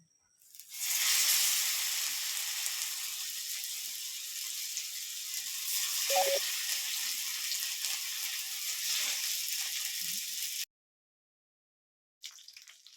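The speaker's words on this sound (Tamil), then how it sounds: "ஃபிஷ்ஷில் இப்போ பொரித்து எடுத்துக்கலாம்." Masala-coated fish frying in oil: a steady, loud sizzle and hiss that starts suddenly and holds for about ten seconds with a brief pop, then cuts to silence before sizzling resumes.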